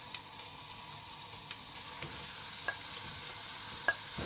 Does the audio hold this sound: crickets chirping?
no